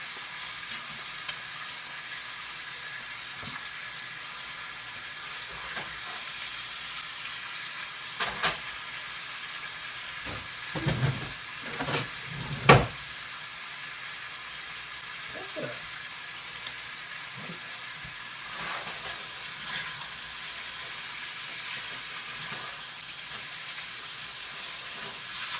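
Chicken pieces sizzle steadily as they brown in a frying pan for a tropical chicken dish, with a constant hiss broken by a few sharper crackles and pops near the middle.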